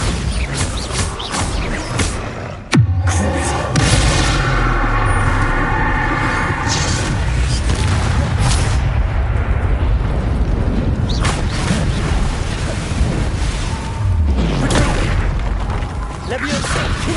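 Spell explosions from the Bombarda curse in the video game Hogwarts Legacy, a sharp loud blast near the start followed by dense rumbling combat bursts and crashes throughout, with a game soundtrack underneath.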